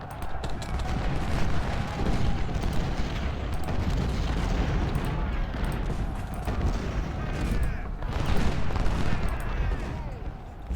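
Artillery batteries and massed gunfire in the Ultimate General: Civil War strategy game, a dense continuous battle roar of booming cannon and crackling volleys that swells and fades in waves with no talk.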